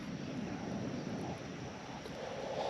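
Wind gusting in at Flamingo in Everglades National Park, a steady broad rushing roar buffeting close and constant, with no voices.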